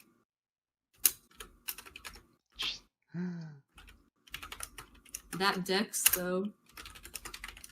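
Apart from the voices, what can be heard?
computer keyboard typing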